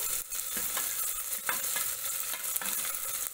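Green fenugreek khichdi stirred in a pan while it sizzles, with a steady close hiss broken by repeated scraping strokes of the spoon, short and rhythmic, with no voices.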